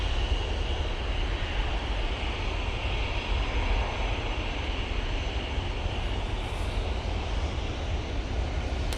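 A jet airliner departing Manchester Airport for Tenerife gives a steady, broad engine roar at moderate distance, holding evenly throughout without voices.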